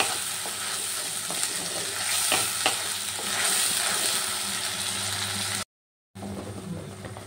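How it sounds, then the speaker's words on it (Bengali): Onion-tomato masala sizzling and being stirred in a pan, a steady broadband frying hiss with scraping strokes, briefly cut to silence near the end; no talk. "এবার ভালো করে এটা কষিয়ে নেব, যাতে পেঁয়াজ টমেটোর কাঁচা গন্ধটা না থাকে"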